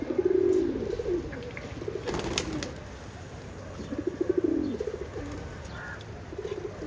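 Pigeons cooing nearby, several soft, throaty rolling calls repeating at intervals against outdoor background noise.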